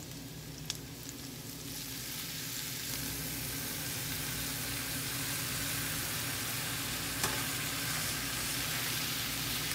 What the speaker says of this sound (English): Just give them a quick saute.